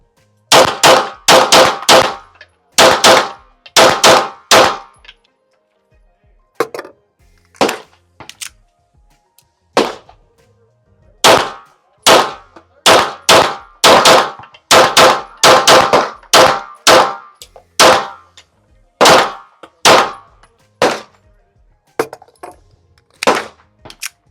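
A Tisas Night Stalker DS 9mm pistol firing Remington MCU 115 grain rounds at a shooting range: loud, sharp shots in quick strings of two to five, separated by short pauses, with faint metallic clinks between.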